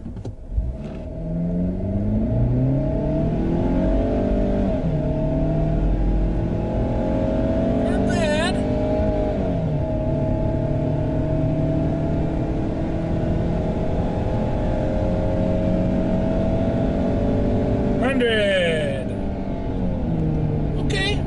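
A 2022 Ford Maverick pickup in tow haul mode accelerates hard from 0 to 60 while towing a 4,000-pound trailer, its engine climbing steadily in pitch through several gear shifts, loud and continuous from start to finish.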